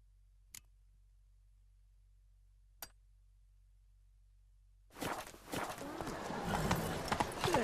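Roach, the horse in The Witcher 3: Wild Hunt, breaks into a gallop after near silence broken by two sharp clicks. The hoofbeats arrive suddenly, loud and close, as a dense, rumbling run that builds over the final seconds.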